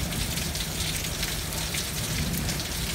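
Steady, dense rain falling outdoors, a loud, even hiss of drops on surfaces with no pauses and no voices.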